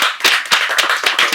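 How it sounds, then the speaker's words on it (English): An audience claps after a poetry reading, the sharp hand claps coming in uneven bursts, close and loud, with no voices over them. "Let's give them another round of applause"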